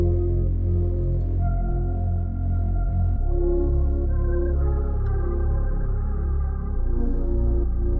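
A slow, vibey R&B beat with a dark melody over a sustained pad and a deep, heavy sub bass, playing loud and continuous with no voices.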